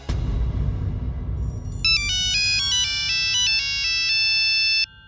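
A mobile phone ringtone starts up loud and close after a noisy start, a bright electronic melody of repeating tones that plays steadily for several seconds and then cuts off.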